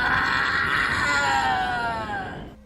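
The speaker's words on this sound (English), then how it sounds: "His pitch shifted from deep growls to piercing shrieks" A single loud, sustained scream rises and wavers for about two seconds, then trails off into quiet.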